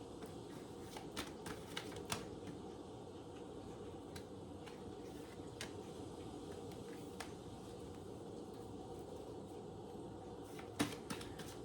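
Tarot cards shuffled in a quiet room during a spiritual reading: soft, continuous riffling texture with scattered sharp card snaps and taps, fairly faint and close, no voices.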